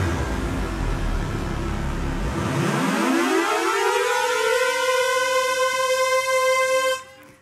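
Yamaha CP88 stage synth notes gliding upward with portamento, several voices sliding at slightly different rates into one steady sustained tone that hums loudly on its own for about seven seconds before cutting off.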